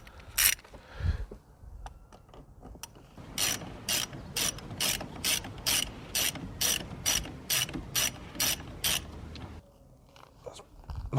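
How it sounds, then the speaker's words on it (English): A ratchet with a long extension clicks in a rapid, even series of about a dozen sharp ticks as a 10mm battery terminal nut is worked loose on a Mk2 SEAT Leon Cupra, close and alone with no talk. "So I'm actually going to go in with my ratchet."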